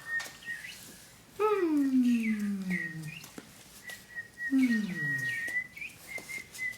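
A person imitates a morning bird call with their voice: two drawn-out, falling caws, one long and one shorter, loud and close over a quiet room.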